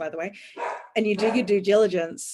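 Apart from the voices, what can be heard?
dogs barking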